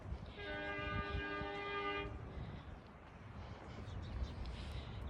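The horn of the cockle train, a diesel rather than the steam engine, sounds one sustained chord-like blast for about two seconds, somewhat distant, then fades into outdoor wind and rumble near Boomer Beach.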